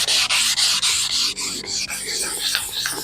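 Wet sanding car paint by hand with 600 grit sandpaper: a steady, close, rhythmic rasping scrub in repeated back-and-forth strokes, loud and continuous with brief dips between passes and no talking.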